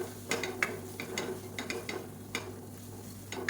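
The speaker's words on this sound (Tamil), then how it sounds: "இது வந்து எண்ணெயில் நல்லா பரட்டி விட்டுக்கணும்" Chili powder frying in oil while being stirred for a parotta salna: a faint, steady sizzle with light scraping taps from the spoon, soft and close, with no voices.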